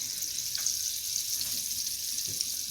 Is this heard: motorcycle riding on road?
no